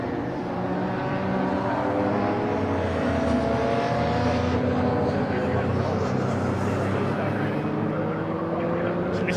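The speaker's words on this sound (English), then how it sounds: "Listening to Tom Robinson's Jaguar there. Hear the whine of that supercharger." Tom Robinson's supercharged Jaguar XJS race car roars past at Silverstone in a continuous, loud engine drone, with a faint high supercharger whine layered over the dense, steady noise; a commentator talks over it.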